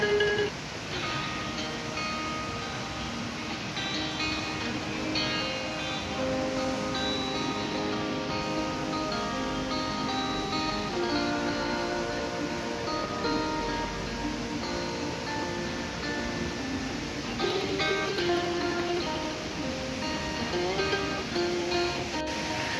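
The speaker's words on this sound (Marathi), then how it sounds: "धबधब्याचा एक आवाजही येत असेल तुम्हाला, सगळीकडून पाणी झुळझुळ झुळझुळ वाहत आहे" A waterfall pours nearby as water runs and trickles all around, making a steady, full rushing wash that holds level throughout with a faint tonal layer riding over it.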